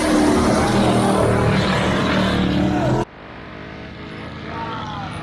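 A Crown Victoria short-track race car does a burnout on another car after a wreck, with loud, steady engine roar and tire noise that cuts off abruptly to a quieter rumble partway through.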